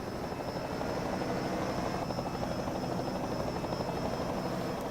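Steady helicopter rotor drone from the NASCAR Racing 2003 video game, a continuous loud thrum held at even level throughout with no talk over it.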